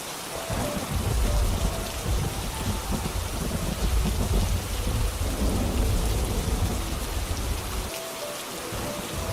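Heavy rain and rumbling thunder in the video game Murder Diaries on a rainy night, a dense continuous downpour with deep low rolling thunder underneath, steady and enveloping with no speech.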